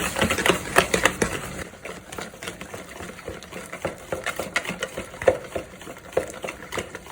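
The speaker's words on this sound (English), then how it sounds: "And just half of our chocolate chips. Give it a nice whisk." Muffin batter with chocolate chips is whisked in a bowl, giving rapid, close clicking and tapping strokes in a continuous busy rhythm, without speech.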